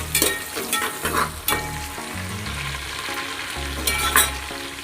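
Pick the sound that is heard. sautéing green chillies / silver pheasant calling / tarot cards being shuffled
sautéing green chillies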